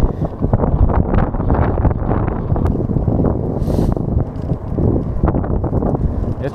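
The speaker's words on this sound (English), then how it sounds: "The wind behind us is pushing us along" Steady wind buffets the microphone during an outdoor bike ride, a loud, continuous broadband rush with gusty swells, heard alone without talk.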